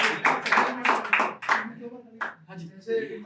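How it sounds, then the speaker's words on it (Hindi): Audience at a live poetry show at Pahchan Studio clapping for Anand, several bursts of hand claps in quick succession, then thinning into scattered claps as voices murmur underneath. "एक बार जबरदस्त ताली आनंद भाई के लिए बजा दीजिए।"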